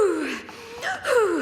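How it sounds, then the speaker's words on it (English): Heavy, strained breaths with a rasping, wheezing quality, drawn in a few uneven bursts close to the listener. "Those are definitely unique breathing noises."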